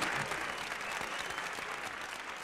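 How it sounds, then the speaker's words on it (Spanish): After a pasillo song by a singer at a Día del Pasillo concert in Ecuador, the audience claps steadily in a dense, even wash of applause that holds for the whole stretch. "Un aplauso, por favor,"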